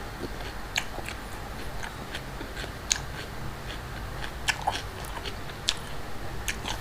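Crisp, irregular bites and crunches of pickled shrimp cured in fish sauce, chewed close to the mic, with sharp snaps scattered over steady low background noise and no voices.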